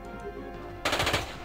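Automatic gunfire from the video game Jagged Alliance 2 erupts in a loud rapid burst after a quieter stretch, several close-spaced shots lasting about half a second.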